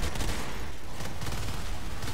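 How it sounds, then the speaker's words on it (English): Rapid pistol gunfire in Natural Selection 2 crackles in a dense, continuous burst of shots, loud and unbroken throughout. "I'll just pistol the crap out of that thing."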